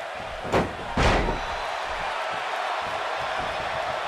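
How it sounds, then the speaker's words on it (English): A wrestler hits the mat hard from a bulldog move in a wrestling video game, two loud thuds over a constant arena crowd roar. "Drops him with a bulldog."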